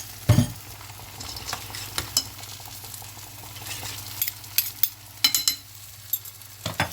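Nettles fry in a pan, sizzling softly and steadily while a utensil stirs and scrapes in sharp, irregular knocks and clatters close by, with no talking.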